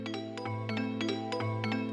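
A swung arpeggio played on an Akai MPC X, a bright synth pattern of quick rhythmic notes with a lilting shuffle feel, steady and clear with no talking.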